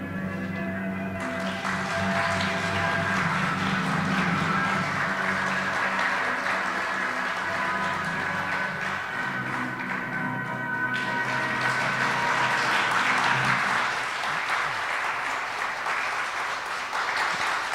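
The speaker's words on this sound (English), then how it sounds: "judging from the applause, it sounds like a hit" Sustained theater audience applause as the final curtain falls on a play at the Little Theater, a dense steady roar of many hands clapping that swells and holds for the full length, then eases slightly near the end.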